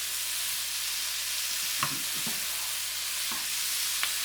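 Tomatoes cook down in a pan with a constant bright sizzle, broken by a few soft stirring scrapes and taps; close and steady, with no talk.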